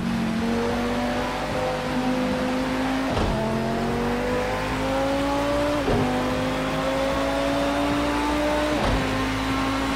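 A race car engine in Assetto Corsa Competizione drives a lap, droning close and steady with its pitch climbing and then dropping at crisp gear shifts about every three seconds, with no talking.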